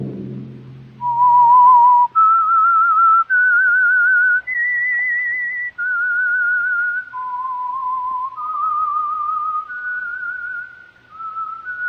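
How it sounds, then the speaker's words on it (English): A clear, melodic whistled tune opens the Whistler radio drama as its signal, sustained pitched notes stepping up and down in a steady eight-note phrase, loud and alone after a brief low voice at the start. "Let that whistle be your signal for the Whistler"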